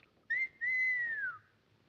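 A person whistles two notes, a short blip followed by a longer sustained tone that glides downward at the end, moderately quiet and heard alone with no talking.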